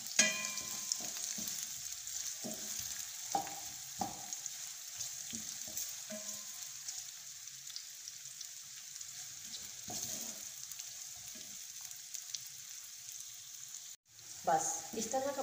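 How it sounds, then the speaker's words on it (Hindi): Chopped onions sizzle softly in oil in a pan for chicken cream handi, a faint steady frying hiss broken by occasional stirring clatters, with someone speaking briefly. "अब मैं इसके अंदर ये प्याज ऐड करूँगी और इसको हम थोड़ा सा फ्राई करेंगे।"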